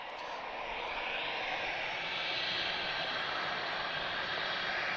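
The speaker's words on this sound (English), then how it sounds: "So you may notice a difference in the engine sound now." Airbus A320 jet engines roaring steadily during departure at Lisbon Airport, a loud, continuous broadband rush that holds level for several seconds with no talk over it.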